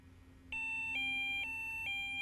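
A Delkim bite alarm's anti-theft alarm sounds off in a bright, repeating electronic chirp pattern, a loud steady pulsing tone that starts abruptly and keeps cycling with no voices.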